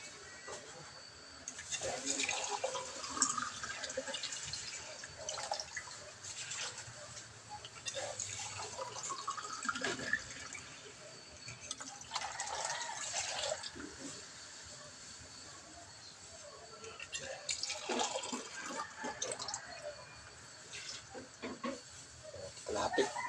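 Two glasses of water poured into a pot of cassava being cooked for breakfast, a steady splashing, trickling fill with dripping and hiss, fairly faint and continuous with brief pauses.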